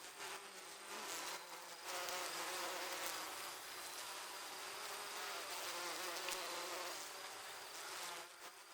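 Foraging honeybees produce a dense, continuous buzz that stays steady and fairly faint, with no voices.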